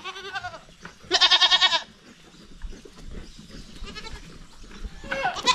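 Female goats on a farm bleat in several short, loud, quavering calls, with a strong burst in the middle and another at the end, separated by quieter rustling and background farm noise.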